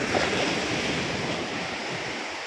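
Ocean waves surge and wash steadily near a wooden boat being pulled ashore, with strong wind buffeting the microphone in a continuous loud roar and no voices.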